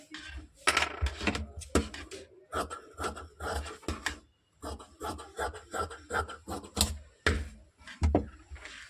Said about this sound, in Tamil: இப்போ இதை நம்ம அப்படியே கட் பண்ணி எடுத்துக்கலாம்